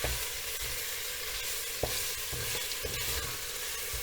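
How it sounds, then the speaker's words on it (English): Pork pieces are stirred and browned in a pressure cooker for sticky lemon pork, giving a steady close sizzle throughout with a few sharp scraping knocks from the stirring. "pop that into the pressure cooker and give it a good stir. Your aim is to brown that meat on all sides."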